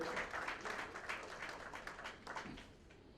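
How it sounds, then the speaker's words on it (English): Audience applause at the launch of a major health campaign, a broad wash of clapping from a crowd that thins out gradually toward the end. "A big round of applause for Mr. Ashish Shelar for all his support to making this event very, very successful."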